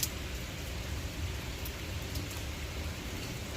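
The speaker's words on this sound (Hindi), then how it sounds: "ये पानी में पता चल रहा है कि बारिश हो रही है।" Rain falling on a street in Newark, New Jersey, a soft, steady hiss of drops and splashes, faint and even throughout with no voices.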